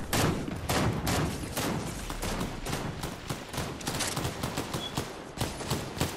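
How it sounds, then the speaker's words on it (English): Rapid gunfire rattles in a video game shootout, dense bursts of automatic shots and overlapping pops firing continuously for several seconds, loud and close, with no voices. "Is somebody shooting from the back?"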